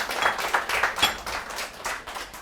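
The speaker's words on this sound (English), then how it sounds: "Let's give Lisa a round of applause." An audience applauds chef Lisa Goodwin-Allen at a cooking masterclass: steady, fairly even rounds of clapping from a modest crowd, close and without speech.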